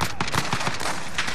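Rapid bursts of automatic gunfire fill a multiplayer shooter match, loud and close, with sharp repeated shots packed tightly together and no pause across the short stretch.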